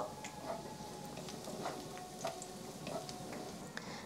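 Onions fry steadily in a pan, a soft continuous sizzle with faint occasional ticks and scrapes, and no talking.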